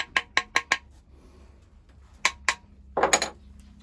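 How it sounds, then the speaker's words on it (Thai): Small hammer striking a wooden hand plane's blade, in a quick series of five sharp metallic taps, a pause, two more taps, then a cluster of rapid knocks, close and alone. "เราก็ต้องมีค้อนนะฮะที่ใช้ในการตอกด้วยนะฮะ ค้อนเล็กๆแบบนี้ก็ได้นะฮะ"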